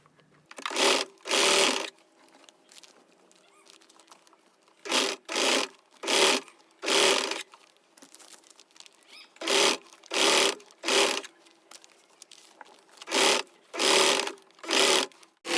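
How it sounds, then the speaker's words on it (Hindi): A sewing machine stitches lace onto a trouser in short repeated bursts of rapid mechanical whirring, each lasting about a second and separated by quiet pauses, heard close up with no talking. "अब हम इस तरह से लेस वाले पैटर्न को भी इस तरह से 1/2 इंच अंदर डालते हुए इसमें भी इस तरह से सिलाई लगा लेंगे।"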